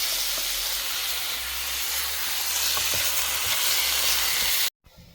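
Mango and chicken curry with ginger being stirred in a pan: a loud, steady hiss and sizzle that stops abruptly near the end, followed by quiet room noise.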